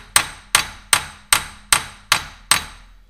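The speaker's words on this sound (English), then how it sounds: "Finish tapping this the end of the CV shaft out of the hub." A small hammer taps a car's CV shaft out of the wheel hub seven times in a steady rhythm, each strike sharp and ringing briefly, close and loud with no voices.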